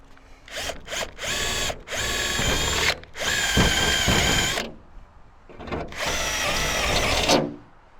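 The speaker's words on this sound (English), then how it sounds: "I drilled pilot holes and then cut it out with a jigsaw." Power drill boring pilot holes through a van's metal roof for a Maxxair roof fan, several loud whining bursts of drilling separated by short pauses, close and alone with no talk.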